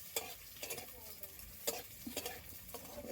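Bitter gourd frying in a pan sizzles quietly close by, with a few sharp scraping stir strokes breaking through the soft crackle.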